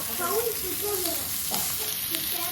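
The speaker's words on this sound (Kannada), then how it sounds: "ಫ್ರೈ ಆಗ್ತದ" Fish frying in a pan makes a dense, continuous crackling sizzle, loud and close, with a faint voice briefly underneath.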